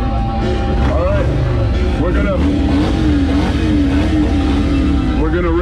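Harley-Davidson motorcycles revving at a drag race at a rally, a loud continuous engine roar with rising and falling pitch sweeps under a shouting crowd and voices.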